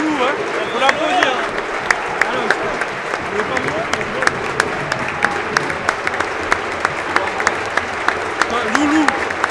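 Applause from a crowd for a Montpellier player named Loulou during an MHSC versus RCSA Ligue 1 match, a dense rolling wash of clapping with sharp individual claps and people talking over it throughout.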